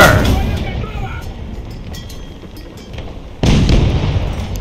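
A tank cannon fires in War Thunder, from a Russian T-series tank: a sharp, loud boom opens the clip and decays into a rumbling tail, then a second heavy blast hits near the end.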